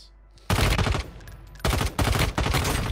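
Loud automatic gunfire in the video game Warzone, three close bursts of rapid shots separated by short gaps, heavy and booming against a quiet game background.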